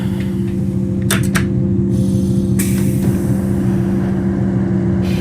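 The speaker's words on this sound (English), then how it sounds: "These engines are certainly quite loud." A DB BR612 diesel multiple unit from Train Sim World 2 runs on the Tharandter Rampe, its engine drone a loud, steady low hum throughout, broken by a few sharp clicks and clatters.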